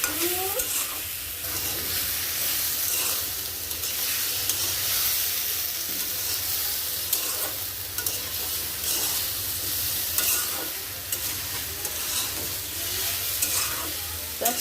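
Vegetables frying in a pan as spices like coriander and chilli powder are stirred in, a continuous sizzle with repeated scraping stir strokes throughout, close and moderately loud.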